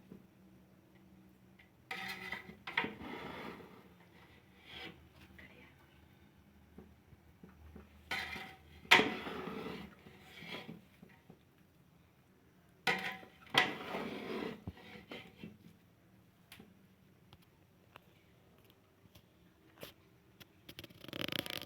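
A spoon stirs and mixes mutanjan, a sweet rice dish, in a large degi pot, making sparse metallic clinks and scrapes in irregular bursts, quiet and close, with no talking.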